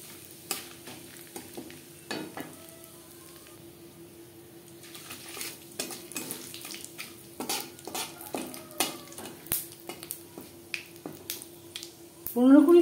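Bengali five-spice, two dry red chillies and a torn bay leaf hitting hot oil, with sparse pops and crackles and some utensil clinks over a faint hum, growing busier toward the end.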